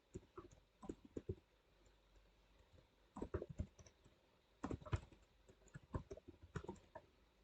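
Keys on a computer keyboard clatter in quick bursts separated by short pauses, faint and close, with no talking.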